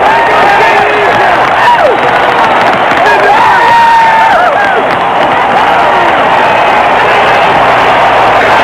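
Loud stadium crowd roaring and cheering after a home run at the 1981 All-Star Game in Cleveland, a dense sustained wall of voices with whoops and whistles rising throughout.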